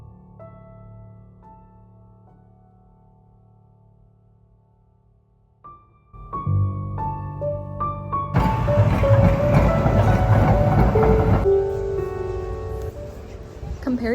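A train rumbling along the rails with a low steady roar that swells louder partway through, mixed with background hum and faint voices.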